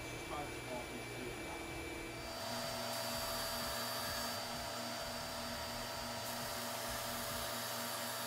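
A WEN 6502T belt sanding station runs with a steady motor hum and broadband whir while its belt grinds into a small piece of wood, the tone shifting as the workpiece presses in; close and continuous.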